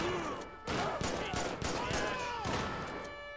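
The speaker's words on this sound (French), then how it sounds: "Oh là, ça tire." Gunfire in GTA 5 during a police response to a night bank robbery: a dense burst of rapid shots fires continuously, loud and close, with a voice speaking over it.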